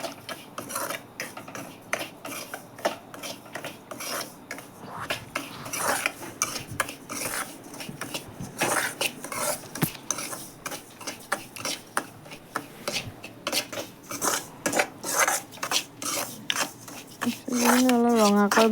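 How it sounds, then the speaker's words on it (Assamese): Semolina stirred with a spatula in ghee in a very hot wok, giving repeated scraping and clinking strokes at an uneven rhythm, close and fairly quiet, with a voice rising briefly at the end. "চুজিখিনি অলপ ৰঙাকৈ ভাজি ল'ব লাগিব।"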